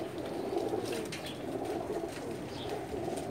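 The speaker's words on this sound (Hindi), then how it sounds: "एक कबूतर देखें जी, आपको मज़ा आएगा माशाल्लाह।" Jonsere Teddy pigeon cooing softly in a low, continuous rolling murmur, close by, with faint background noise and no talk.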